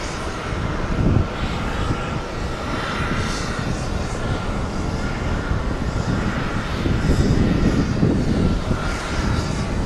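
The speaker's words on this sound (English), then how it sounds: "our Brussels plane is almost here" Brussels passenger plane arriving at JFK airport, a continuous roar of aircraft engines heard from a distance, swelling slightly near the end, with no talk over it.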